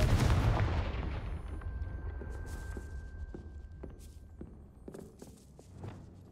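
In the game Hogwarts Legacy, the Confringo fire spell is cast with a heavy explosive boom at the start, followed by a decaying rumble and scattered light clicks and taps.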